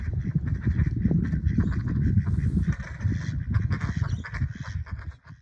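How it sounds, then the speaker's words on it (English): Ducks quacking and calling on open water, a loud, busy chorus of overlapping calls close by that carries on without a break, with no speech. "Two more ducks have flown in."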